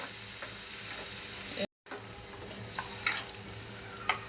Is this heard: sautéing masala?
yes